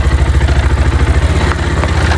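Motorcycle engine chugging with a rapid, rhythmic low pulse while the bike rides a rough off-road mountain trail, loud and close with some clatter over it.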